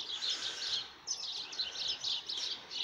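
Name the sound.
wild birds chirping while eating the geese's food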